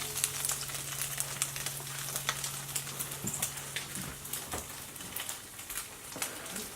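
Bologna slices sizzle in a hot pan for a sandwich, a steady soft crackle and pop of frying with scattered louder spits, heard close up and fairly quiet.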